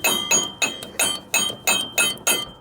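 Eight sharp metallic hammer strikes ring out at an even, steady pace on the pulley shaft of an MTD Yard-Man riding lawnmower, each blow close and loud with a brief clinking ring.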